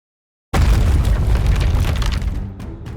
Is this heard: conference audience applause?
no